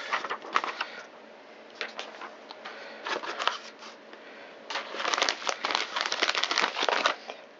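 A plastic bag is crinkled and torn open while a parcel of Mora knives is unpacked, giving close, intermittent bursts of crackling plastic with short pauses between handlings.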